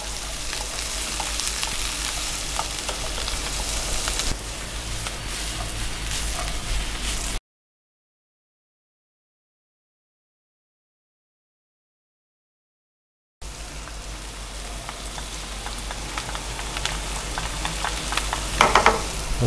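Green bell pepper and onion frying in oil in a pan, a steady close sizzle with stirring, broken by a stretch of silence before the sizzling resumes, louder and crackling.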